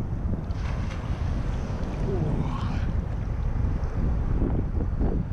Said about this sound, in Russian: Волны морские